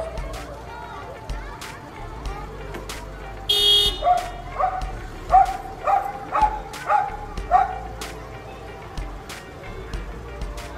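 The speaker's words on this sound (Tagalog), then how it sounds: "Tinatahulan niya ang mga kotseng dadaan para tumigil ang mga ito." Dog barking repeatedly at passing cars at a pedestrian crossing, a run of about six sharp barks in the middle with traffic noise and a brief horn-like burst beneath, over background talk.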